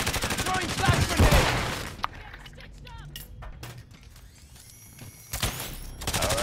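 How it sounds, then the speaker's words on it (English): In a Call of Duty battle-royale match, a flash grenade goes off among bursts of rapid gunfire, sharp cracks and clatters scattered over several seconds, with a loud burst at the start and again near the end. "Throwing flash grenade!"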